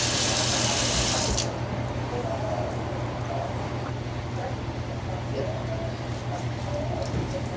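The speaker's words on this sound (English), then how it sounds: "I'm just going through, rinsing it, making sure, you know, it's washed" Running water from a tap rinses a wig treated with leave-in conditioner, a steady close splashing wash that starts with a louder gush and then settles into a continuous stream, with no talking.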